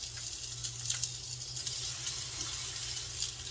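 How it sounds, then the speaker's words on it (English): Salmon sears face down in a hot pot, giving a steady close hiss and crackle of sizzling oil with small pops over a low background hum. "I'm gonna get the salmon right inside this pot right here"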